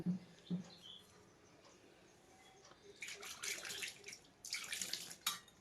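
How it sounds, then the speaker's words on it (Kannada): Quiet start, then bursts of splashing water poured in short pours into flour for shankarpali dough, close and fairly soft, with no talking. "ಸ್ವಲ್ಪ ಸ್ವಲ್ಪ ನೀರು ಹಾಕಿ ಗಟ್ಟಿಗೆ ಹಿಟ್ಟನ್ನು ಕಲಿಸ್ಕೋಬೇಕು"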